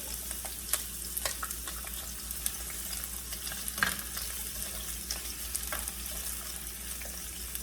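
Onions and garlic frying in hot olive oil over a very high flame, a soft steady sizzle with scattered sharper crackles and pops throughout, no talking.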